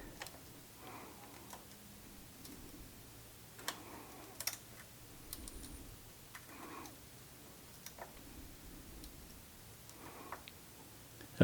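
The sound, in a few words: clicking of a suspension adjuster being turned on an electric dirt bike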